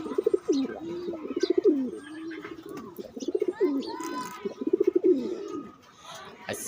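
Pigeons coo in repeated soft, throaty phrases, close by, with faint chirps and light background sounds between the calls.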